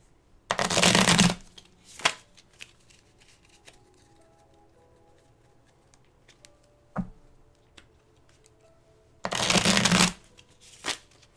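Tarot cards being shuffled, with two loud riffling bursts about a second long at the start and near the end, and light taps and handling noises between them in an otherwise quiet room.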